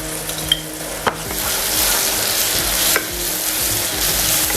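Onions sizzling in a pan with ginger garlic paste for mutton korma, a steady loud frying hiss with a few sharp utensil clicks and stirring scrapes.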